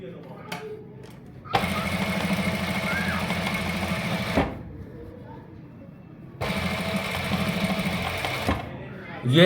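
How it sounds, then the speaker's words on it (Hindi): Sewing machine stitching over the bone of a trouser pocket, two steady close runs of rapid mechanical whirring separated by a pause, with a voice speaking during the quiet gap. "और ये बोन निकालने के बाद इस बोन के ऊपर सिलाई करनी है।"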